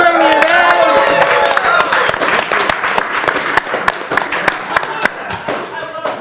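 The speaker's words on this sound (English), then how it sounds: "Let's give a round of applause to all the contestants." A conference crowd at a WordCamp event applauds contestants, with a few scattered sharp claps standing out as the applause thins, while voices and cheering carry through the room.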